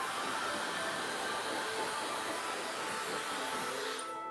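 A hair dryer on medium heat and medium airflow dries the top of a client's hair in a barbershop, giving a steady, continuous airy rush with no talk over it.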